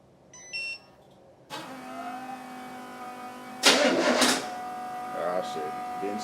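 A 1972 Chevrolet Impala donk with Holley Sniper EFI cranks and catches after a short beep, then settles into a steady idle with a brief louder rev burst; a voice talks over it.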